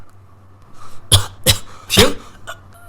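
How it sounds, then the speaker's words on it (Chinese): Three sharp coughs from one person in quick succession, close and clear, with a short spoken word just before them. "咳嗽会吧？"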